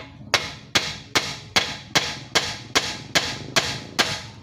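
A hammer strikes a 2012 Toyota Corolla Altis suspension part to knock it loose, ten sharp, evenly spaced metallic blows, loud and close, with no talk between them.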